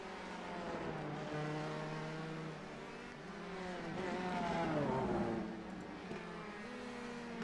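Race car engines whine and rev in the iRacing simulator during a Bolt Series race, a steady droning tone that rises and falls in pitch as cars accelerate, with no speech in the clip.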